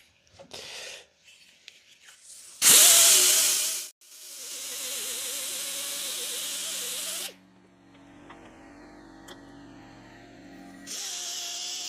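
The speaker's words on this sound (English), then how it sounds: "Just going to clean that up, grind the ends up, get it ready to weld." An angle grinder cleaning up the cut ends of steel tubing in a workshop ahead of welding on a Ford MK2 Fiesta XR2 rallycross car. It is heard as loud, close bursts of high-pitched grinding that stop and start, with a hissing compressor behind.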